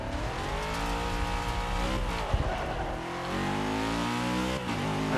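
A 1970 Chevrolet El Camino in the racing game Forza 6, its engine roaring and revving hard through gear changes with rising pitch, loud and continuous with a brief tire scrub.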